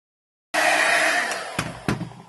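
A heat gun switches on abruptly and blows a steady, loud broadband rush of hot air, holding near and constant with two brief thumps or handling knocks toward the end.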